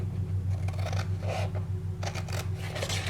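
Scissors snip through fabric while a wine bottle cover is cut out, giving several short crisp cuts and rasps over a steady low hum.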